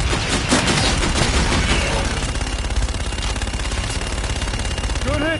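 Sustained machine gun fire from a fire support strike in a military video game, a dense rapid burst of loud shots filling the whole stretch with no pause, with a brief chirping whine near the end.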